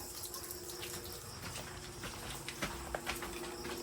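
Water runs steadily from a sink faucet at night, giving a continuous broadband splashing rush with a few brief clinks and taps over it and no talking.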